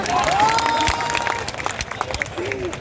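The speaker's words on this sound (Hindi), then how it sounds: "आप लोग जोरदार तालियां बजाइए" A live audience at a Hindi speech or poetry event claps, loud at first and then thinning into scattered claps, while a voice and some tonal sounds cut through.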